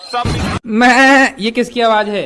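A voice imitates a goat's bleat with a quavering, vibrato-like cry in a comedy stage performance, set between bursts of spoken talk.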